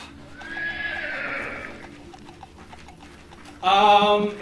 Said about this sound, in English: Horses, go! Go!